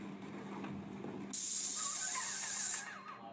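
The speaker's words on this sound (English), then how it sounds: "So the general process of spraying the air barrier is that you ride the wave from left to right" A loud, steady hiss of a paint sprayer blasting air barrier coating for about a second and a half, starting abruptly and cutting off, over low background hum.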